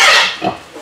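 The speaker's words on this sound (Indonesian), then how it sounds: "Tuh babinya." A pig grunts at an organic pig farm: a short, loud, nasal oink followed by a fainter, lower grunt close by.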